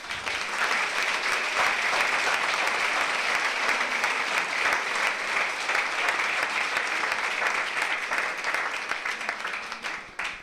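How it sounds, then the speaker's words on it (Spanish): A church congregation at a Catholic retreat breaks into sustained applause, a dense, even roar of many hands clapping for about ten seconds that fades slightly at the end. "Vamos a darle un aplauso al Señor."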